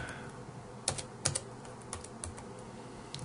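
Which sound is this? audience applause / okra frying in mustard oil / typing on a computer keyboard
typing on a computer keyboard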